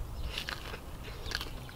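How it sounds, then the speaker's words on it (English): Teeth bite into crunchy pizza crust baked in a Capt'n Cook tailgate oven, two close crisp crunches about a second apart over low background noise. "I want you guys to hear the crunch."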